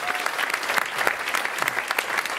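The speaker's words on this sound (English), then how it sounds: "So a big round of applause." Warm audience applause fills a conference hall in St. Gallen as a speaker is welcomed back on stage, dense steady clapping throughout.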